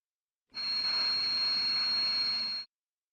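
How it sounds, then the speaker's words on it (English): A simulated tinnitus ringing: a piercing, steady high-pitched tone sits over a soft rushing hiss meant as a passing car, starting abruptly and cutting off after about two seconds. "So a car passing by could sound like this for folks with the condition."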